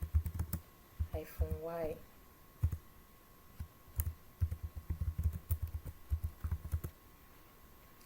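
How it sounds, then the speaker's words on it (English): Close, quiet computer keyboard typing as a Linux terminal command is entered: irregular runs of clicky keystrokes with brief pauses, and a short moment of speech near the start. "So we type the command sudo apt updates sudo apt upgrade"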